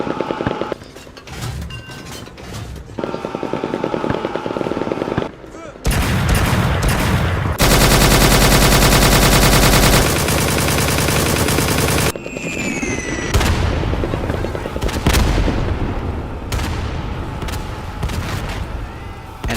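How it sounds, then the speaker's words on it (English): World War I battle sounds of artillery and gunfire: loud continuous rattling machine-gun bursts and heavy booming blasts, dense and close, with a sustained roar in the middle and faint voices mixed in. "And this is artillery, one of the most deadliest weapons used in World War I."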